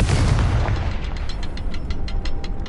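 In Hogwarts Legacy, the Confringo blasting spell sets off a heavy, booming explosion that fades into a crackling, rumbling tail of small pops, loud and close with no talking.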